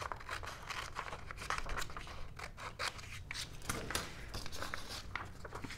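Scissors snip steadily through a sheet of patterned paper while cutting out an envelope shape, a close, continuous run of crisp cuts with light paper rustling and no voices.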